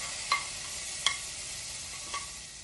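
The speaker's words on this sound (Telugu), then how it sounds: "స్టవ్ ఆఫ్ చేసుకుని ఈ పోపంతా ఇందులో కలుపుకోవాలి." Sizzling tempering with asafoetida is stirred into a tamarind vegetable stew after the stove is turned off; three soft scraping stirs sound over a faint, low sizzle.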